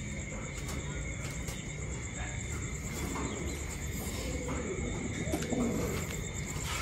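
Pigeons coo softly and repeatedly in a loft where the birds are bred for eggs and hatching, low calls recurring through steady background noise with faint insect chirps.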